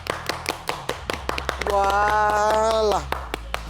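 Studio applause from a small group during a chat show about an Ivorian artist, a fast run of sharp close claps mixed with talk and a sustained sung or shouted tone in the middle.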